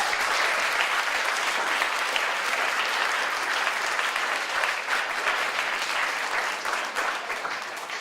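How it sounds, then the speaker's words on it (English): Debate teams and their audience give themselves a big round of applause at a world championship event, dense and continuous clapping from a large crowd that holds steady, then eases slightly toward the end. "So give yourselves a round of applause."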